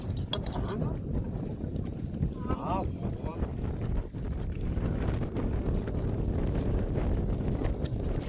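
Strong, gusty storm wind buffets a small fishing boat in the middle of a river as a submerged net is hauled in, a steady roar throughout with people talking over it.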